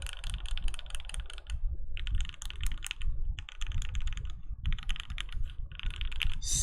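Mechanical keyboard with Gateron Yellow switches and alpha keycaps on a KBDfans D84 gasket-mount board, typed on in steady, fast bursts of crisp clacks with short pauses between runs, close and clear with no talking.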